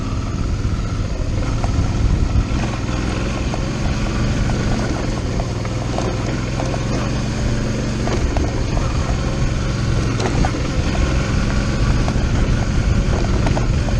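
A Suzuki V-Strom 650 motorcycle with bald tires rides through sand on a fire road, its engine a steady, loud drone mixed with wind rush that continues the whole time.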